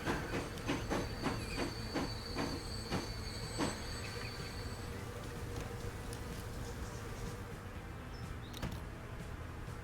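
A train runs on rails in the Transport Fever 2 management game, with steady rolling rumble, rhythmic clickety-clack wheel beats through the first few seconds, and a faint high squeal and hiss, continuous and fairly close.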